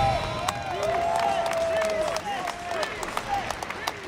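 An esports arena crowd at the Evo 2026 fighting-game finals cheers and claps steadily, a loud, dense roar with scattered whistles and sharp claps throughout, and a commentator's voice runs over it.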